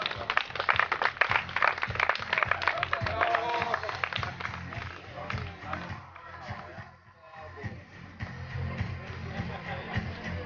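A crowd applauds the third-place winners at the final of a three-municipality tournament. The clapping is dense and steady throughout, with voices talking over it.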